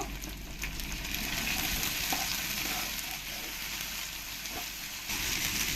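Chopped green chili and ginger garlic paste sizzle loudly in oil while being stirred, a dense continuous frying hiss close up with faint scraping.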